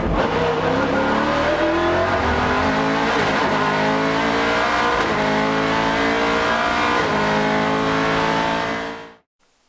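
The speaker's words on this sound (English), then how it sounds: "I was shocked to hear the V8 growl rather than the blaring of the VR38 V6" Nissan GT-R Nismo GT1 race car with a V8 engine growls loudly and continuously, holding a deep, rising and falling roar through repeated gear changes before cutting off abruptly at the end.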